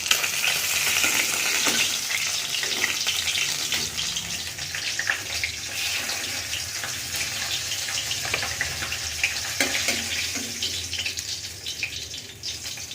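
Fish pieces frying in hot oil in a pan make a steady, dense crackling sizzle that runs unbroken and close throughout.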